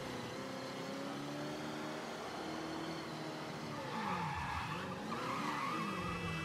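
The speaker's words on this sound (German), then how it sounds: "Alter, macht die Karre einen Krach." In the Mafia III video game, a car engine roars steadily while tires squeal and skid, growing louder in the last few seconds, with no voices.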